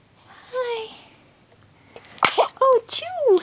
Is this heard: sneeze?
yes